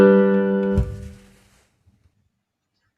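A single sustained second-inversion chord from a short progression rings out loudly and clearly, then decays into near silence, with a faint click at the very end.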